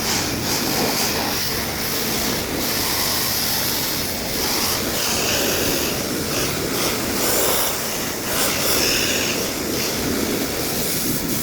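Hose-pipe water sprays hard and steadily against a machine radiator during cleaning, a loud continuous hiss and rush with slight surges, no voices.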